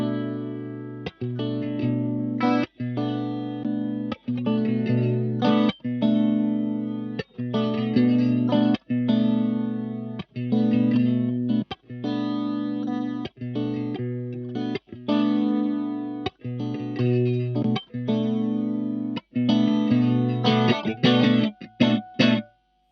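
Electric guitar through a PastFX PX65 stereo chorus pedal set to slow modulation and full depth, strummed chords in a steady rhythm with short gaps, swirling with a hollow flange-like sweep; no talking.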